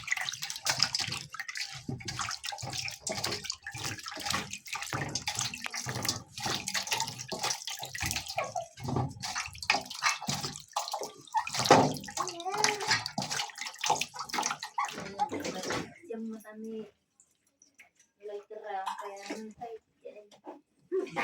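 Scraped buffalo feet are washed under running water, a steady close splashing and gushing flow that stops near the end. A voice talks faintly in the background.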